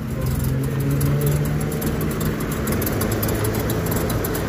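A Chevrolet Omega with a four-cylinder turbo engine idles steadily, a low, even rumble with a slight uneven lope, heard up close and alone without any talking.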